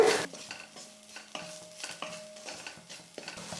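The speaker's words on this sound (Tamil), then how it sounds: "எல்லாத்தையும் சேர்த்து லைட்டாக வந்து ஸ்டவ்வை லோ ஃப்ளேமில் வச்சுட்டே வதக்கிக்கோங்க" Egg cutlet potato masala is stirred and sautéed in a pan over low flame, a short run of soft scraping strokes and clinks against a gentle sizzle.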